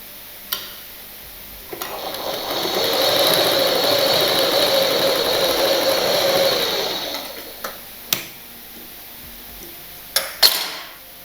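A sewing machine stitches a blouse in one continuous mechanical whirring run lasting several seconds, framed by sharp clicks and knocks before and after.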